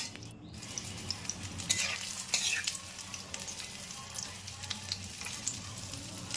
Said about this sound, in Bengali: এবার ওই তেলে কালো জিরে কাঁচা লঙ্কা ফোড়ন দিয়ে দেব।